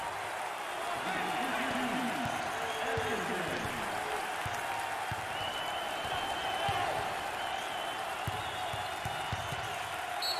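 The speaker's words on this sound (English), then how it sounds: "Listen to this crowd. Oh, there's all kinds of people standing and cheering and going wacky." A basketball crowd at an NCAA Ivy League tournament championship game between Cornell and Penn cheers and claps after a made shot, a dense roar of applause and whoops filling the arena, with a commentator talking over it.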